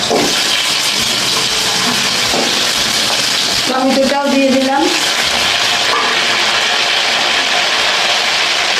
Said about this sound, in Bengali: আমি এবার আলুগুলো ভেজে নেবো